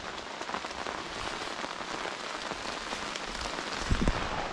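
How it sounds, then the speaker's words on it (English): Steady rain patters on a taut tarpaulin overhead at a forest campsite, a dense, even drumming close by with a few heavier drops near the end. "There we go, right on cue. Started to rain."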